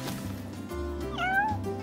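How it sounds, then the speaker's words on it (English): A cat meows in the Final Fantasy XV video game, one clear, rising and falling meow over a steady bed of game background music. "Hey, you're the cat we saw in Galden."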